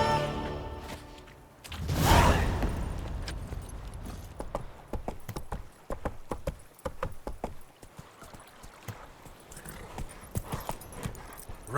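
A horse gallops in The Witcher 3 video game with steady, close clip-clop hoofbeats, which start after a whooshing swell that carries a brief whinny, then keep a fast, even rhythm.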